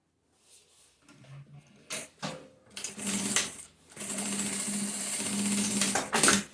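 A sewing machine stitches a backstitch on a fabric bag, opening with short start-stop bursts and then running in a loud, sustained mechanical whir, with no speech.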